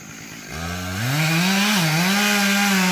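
Up close, a chainsaw revs up from idle and cuts into a hackberry tree, its engine pitch rising and wavering as it bites through the wood, loud and steady.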